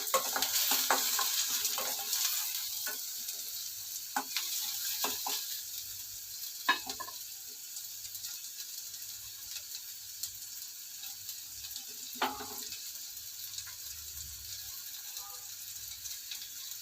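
Rock salt roasting in a pan, stirred with intermittent scraping and rattling strokes over a faint, steady sizzle.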